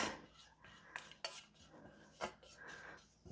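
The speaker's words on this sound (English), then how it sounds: "I'm just going to use a spatula to get all of it" A spatula scrapes a peanut butter mixture out of a bowl, giving several short, separate scraping and clinking strokes against the bowl at close range in a quiet kitchen.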